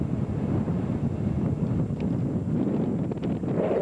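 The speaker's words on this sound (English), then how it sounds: "It's a windy day today." Wind blows hard across the microphone at a hilltop vista overlooking a lake, with trees around. The rumble is loud and steady throughout, with no talk.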